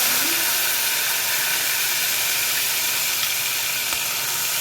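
Onion-tomato paste hits hot oil and sizzles in a loud, steady hiss that stays unbroken from start to finish, close and alone.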